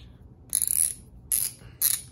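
Three short bursts of rapid clicking from a ratchet head turning, close and crisp, separated by brief silences.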